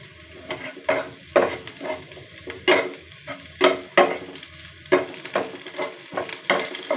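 Onions and green chillies fry in a small amount of oil in a pan, a hissing sizzle broken by repeated scraping stirs, close and fairly loud, with no voices.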